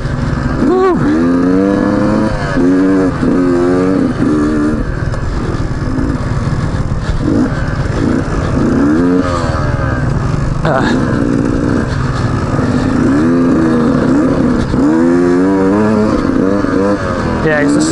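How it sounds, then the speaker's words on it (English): A Beta 125 RR Race Edition motorcycle, a 2019 125 cc dirt bike, revving hard while being ridden fast, its engine note rising and falling throughout under a rider's running commentary. "You can definitely tell this bike is much more designed to be ridden fast."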